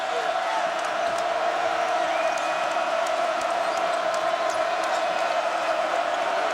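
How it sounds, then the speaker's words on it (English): Crowd noise fills a college basketball arena at UConn's Gampel Pavilion during a Syracuse–UConn men's game, a steady roar with scattered shouts, sneaker squeaks and occasional bounces, loud and continuous throughout. "Crowd back into it here at Gamble."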